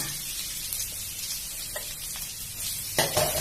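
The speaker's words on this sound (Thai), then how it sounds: "ผัดกระเทียมให้หอมนะคะ" Garlic sizzling and stir-frying in three to four tablespoons of hot oil in a wok, a steady close crackling hiss with light scraping, growing louder near the end.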